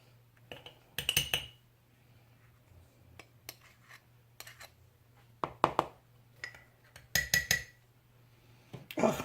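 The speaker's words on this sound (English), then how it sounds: "Don't tap on the rim with metal." A metal utensil taps and clinks against the rim of a glass jar while stew ingredients are portioned, with scattered bright clinks in small clusters over a low steady hum.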